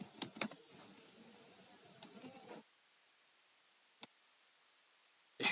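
Computer keyboard keys clatter in quick bursts for a couple of seconds while Java code is typed, then stop, leaving near silence broken by a single isolated keystroke and a final short burst.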